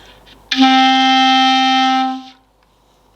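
A clarinet holds a single steady D for about two seconds, clear and close, then stops, leaving quiet.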